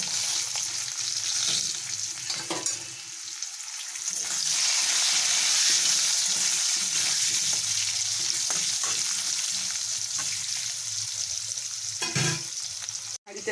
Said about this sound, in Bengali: এবারে আমি আলুটাকে ভেজে নেব